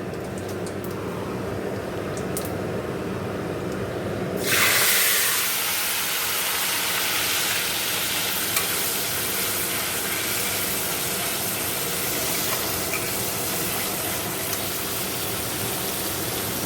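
Ground spices hit a pan of hot oil tempered with cumin and dried chilli after fish has been fried, bursting into a sudden loud sizzling hiss that then settles into steady frying.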